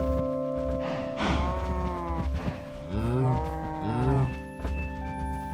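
Several cows in a video game moo one after another, their calls loud and close over a steady game soundscape, with no talk.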